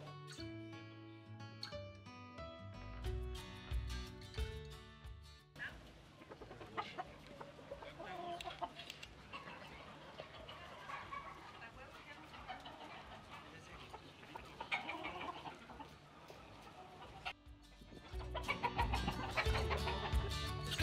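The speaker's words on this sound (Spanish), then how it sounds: "Qué bonitos gallos estos" Roosters clucking in a farmyard, mixed with other sounds and some background activity, with a louder burst of noise near the end.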